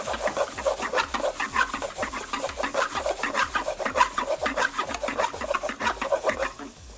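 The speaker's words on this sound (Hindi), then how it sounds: "बेल पेपर शामिल करने के बाद बिल्कुल लास्ट में ये कैबेज शामिल करके आप इसको अच्छी तरह से मिक्स कर लेंगे" A spatula scrapes rhythmically through cabbage and bell peppers in a frying pan while Szechuan chicken is mixed, a quick, steady rasping stroke repeating close up for several seconds with no talk.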